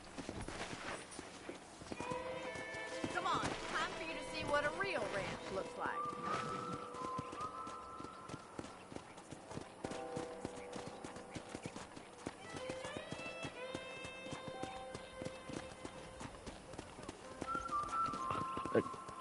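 Horse hooves clip-clop steadily in Red Dead Redemption, the rhythmic footfalls running under a man's speech and in-game music for most of the stretch.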